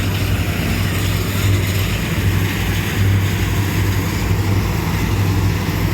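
A Farmtrac 60 tractor drives a Punni multicrop thresher through soybean. The result is a loud, steady mechanical roar with a low engine hum underneath, continuous and close, with no talking.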